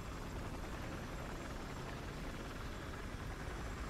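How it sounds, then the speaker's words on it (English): Helicopter engine in the video game Battlefield Hardline: a steady, loud, dense rotor-and-turbine roar that holds at an even level throughout, with no voices. "that is a mean ass chopper"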